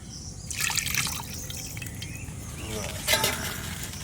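Spiced marinade water poured into a pan while cooking koi fish in a rural Bengali kitchen: a soft trickling splash in two short bursts over a steady low background hum.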